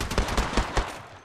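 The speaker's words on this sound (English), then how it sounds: "Shooting!" Rapid automatic gunfire from a weapon in the Apex Legends video game, a quick run of about six sharp, loud shots at an even rhythm, heard alone with no voices.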